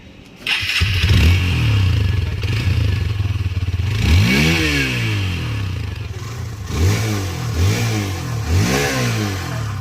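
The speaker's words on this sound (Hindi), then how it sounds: "अब मैं आपको एक बार ना गाड़ी को स्टार्ट करके दिखा देता हूँ।" A Hero Xtreme 160R 4V motorcycle engine starts with a short crank, then idles loudly up close, revving up and settling back several times.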